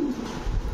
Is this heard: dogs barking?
no